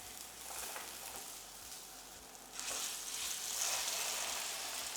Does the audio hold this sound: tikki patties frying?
yes